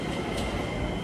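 A train passing close by, rail cars rolling with a continuous heavy rumble and steady wheel noise, loud and unbroken throughout, with no voices.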